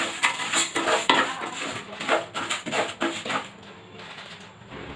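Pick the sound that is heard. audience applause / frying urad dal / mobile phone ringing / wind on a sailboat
frying urad dal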